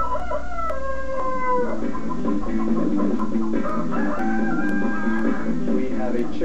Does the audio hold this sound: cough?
no